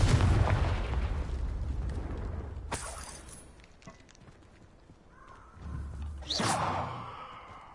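A Confringo fire spell cast in the Hogwarts Legacy video game: a loud burst that fades into rumbling debris, then a second sharp blast with a bright whoosh near the end.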